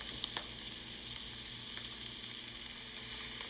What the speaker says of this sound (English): You've got to hear a sizzle.